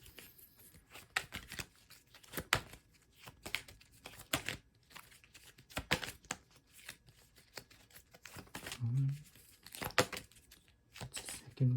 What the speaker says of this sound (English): I'm new to this shuffling, but I'm getting better